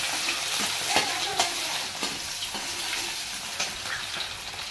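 Onion sizzling in a hot pan as fried rice is started, a steady bright crackle with several sharp clatters of stirring against the pan, fairly faint and with no voices.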